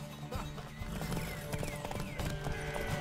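Horse hooves clip-clopping in The Witcher 3: Wild Hunt, a close rhythmic trot with a short whinny, layered with game music tones and brief voices in the background.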